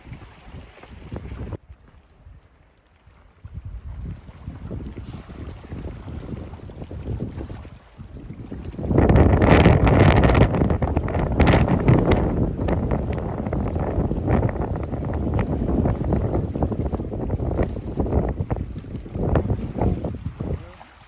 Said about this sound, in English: It's so hard to fish with the wind blowing right at you